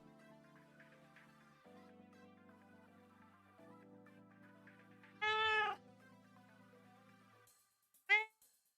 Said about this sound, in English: This is a cat you don't often see.